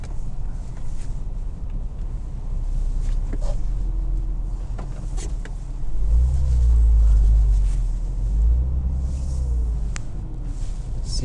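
Porsche Boxster driving on snow in a car park, a low engine rumble that rises and falls, heavier in the middle as it pulls away, with faint crunches and wind noise around it.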